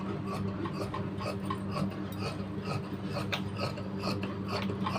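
Scissors slice through chudidhar fabric with steady, soft rasping snips, a close and quiet repeated cutting rhythm with no talk.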